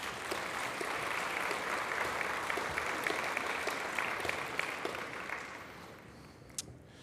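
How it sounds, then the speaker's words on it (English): An audience at a vessel arrival event applauds in a sustained round of clapping that holds steady for several seconds, then thins out toward the end. "And I think you should give them a round of applause."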